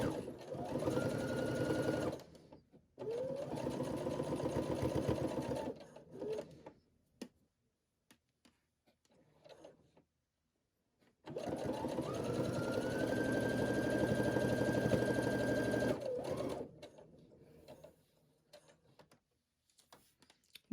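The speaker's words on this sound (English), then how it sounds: "And I'm going to stitch a little bit, and then I'll make sure to back stitch." A Baby Lock Brilliant sewing machine stitches gloves cut from an old sweater, running in three loud, close bursts of rapid mechanical whirring separated by quiet pauses.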